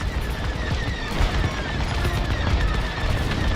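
Blaster fire crackles in Star Wars: Squadrons during a space battle, rapid repeated shots and booming impacts in a dense, steady barrage.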